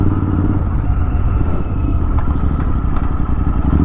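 Royal Enfield Continental GT 650 motorcycle with an aftermarket exhaust riding in first gear, a loud, close, steady twin-cylinder engine drone with rumbling low-end throb throughout.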